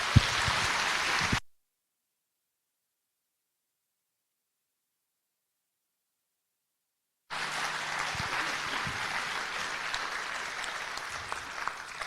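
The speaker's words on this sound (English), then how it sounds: "Let's give them a round of applause." Audience applause at a senior awards program honoring award winners, with a burst of broad clapping, a long silent gap, then steady sustained applause resuming at moderate level.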